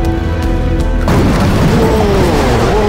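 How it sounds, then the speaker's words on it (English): A huge, loud explosion booms in an abandoned prison, a sudden blast that cuts in partway through and leaves a heavy rumbling roar that fills the rest of the clip. "There was a huge explosion or something"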